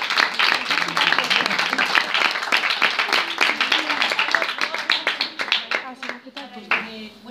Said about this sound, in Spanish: Un aplauso, chicas, aplaudirle.